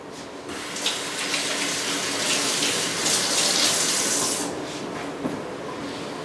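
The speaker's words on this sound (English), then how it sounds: "I'm going to wash my hands" A kitchen tap runs steadily as hands are washed under the stream, producing a constant close splashing rush of water with slight swells and no talking.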